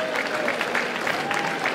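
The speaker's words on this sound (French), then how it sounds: "je demande aux spectateurs, s'il vous plaît, de l'applaudir" Spectators at a boxing event applaud the round girl at ringside, a steady wash of clapping from a large crowd with a faint tone running underneath.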